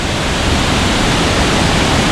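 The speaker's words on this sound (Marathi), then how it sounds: "इकडे बघा तर पाण्याचा फ्लो बघा केवढा जास्त आहे" Fast, swollen water rushes under a bridge after heavy rain, a loud, steady, close roar of broadband churning with no break and no voices.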